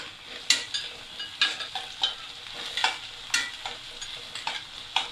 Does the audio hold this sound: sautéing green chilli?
yes